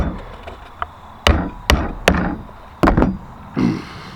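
A hammer drives small nails into a wooden gravity feeder box, sharp close knocks landing in uneven bursts with quieter taps and pauses between them.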